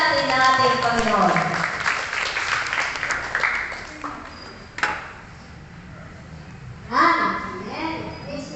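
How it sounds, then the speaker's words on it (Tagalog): A seminar audience at a charismatic prayer gathering claps briefly, scattered applause mixed with a preacher's amplified voice talking over it, fading to quieter murmurs and then more speech. "Palakpakan natin ang ating Panginoon."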